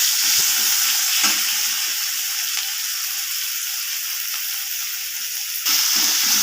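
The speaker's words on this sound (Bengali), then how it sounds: "পেঁয়াজগুলোকে একটু ভেজে নেব কালারটা চেঞ্জ হওয়া পর্যন্ত।" Chopped onions fry in hot mustard oil, giving a dense continuous sizzle that holds steady throughout, with a few faint utensil knocks and no voices.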